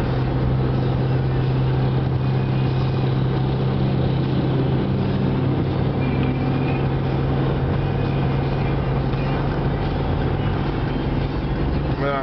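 A pickup truck engine holds a steady drone near 2,800 rpm while driving, a continuous loud low hum from inside the cab with road and mechanical rumble, no pauses.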